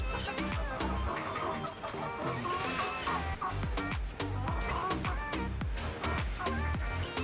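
Hens and a rooster clucking at a pet market in Kuwait, busy and close, with repeated overlapping clucks and calls over a steady background of market noise.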